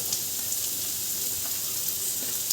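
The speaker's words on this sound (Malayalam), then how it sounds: "സവാള ഒന്ന് വഴലണം" Onion sautés in a hot pan with ginger and garlic, giving a constant, even sizzle and hiss with faint crackles throughout and no talking.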